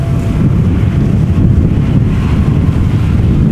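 Steady wind roars across an open spot at Amsterdam Schiphol Airport, buffeting the microphone with a constant loud low rumble for the whole stretch and no voices.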